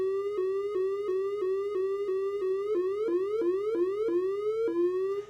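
Synthesizer siren built from sawtooth LFO frequency modulation: a tone that repeatedly rises steadily in pitch, then drops abruptly, cycling about twice per second, clean and alone over a faint low hum.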